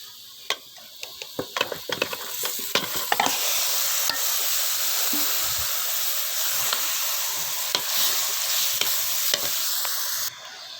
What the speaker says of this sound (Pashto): په دې پیازو او غوړو کې دا کیمه ښه سره کول غواړي.